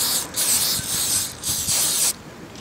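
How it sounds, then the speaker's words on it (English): 3M Super 77 multi-purpose spray adhesive hisses from an aerosol can onto a surfboard under repair, in three loud, close bursts, the middle one longest, then the hiss stops. "Go ahead and spray it on here."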